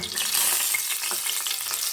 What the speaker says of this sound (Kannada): ಸಾಸಿವೆ ಕಾಳು ಚಟಪಟ ಅಂತ ಹಿಡಿತಾ ಇದೆ